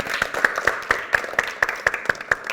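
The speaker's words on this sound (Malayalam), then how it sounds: "ഒരു ബിഗ് ക്ലാപ്പ് എന്ന് കൊടുത്തേ" A congregation at a church service claps in unison, with about ten crisp, evenly timed claps in quick succession over a low murmur of the gathered crowd.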